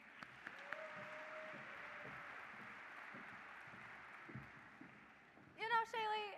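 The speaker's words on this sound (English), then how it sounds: "Let's give one more round of applause for Dr. Gosen as he exits the stage." Sustained audience applause fills a hall at an Illinois FFA state convention session, a steady wash of clapping that fades before a voice begins speaking at the end.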